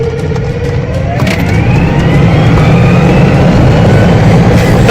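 Car engine revving at full throttle, a loud close roar climbing steadily in pitch over several seconds, continuous and alone with no talking.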